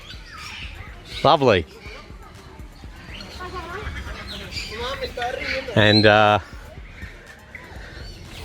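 Birds call around the Bali Bird Park, where guinea fowl and a hornbill are kept: a couple of sharp, loud squawks stand out above scattered chirps, with people talking nearby.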